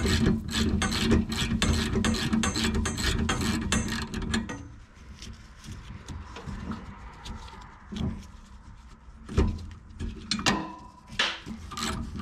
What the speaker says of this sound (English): here we're just removing the brass nozzles, the propane nozzles, and I believe it's a half inch socket that I'm using there.